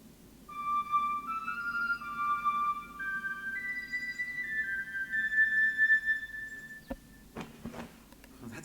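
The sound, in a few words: bone whistle played in video game Masquerada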